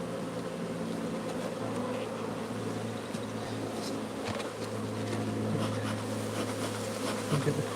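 Many honey bees drone at an open hive in a dense, continuous buzz close by, steady throughout with faint clicks and no talking.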